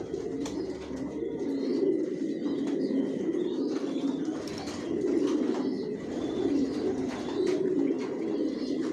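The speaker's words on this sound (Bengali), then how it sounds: "এখানে যে কবুতরগুলো দেখতেছেন এগুলো আমার মাস্টার পেয়ার রানিং পেয়ার" A flock of racing pigeons in their loft fills the air with constant overlapping low cooing, punctuated by light chirps and brief wing flutters, near and sustained.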